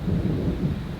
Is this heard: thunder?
yes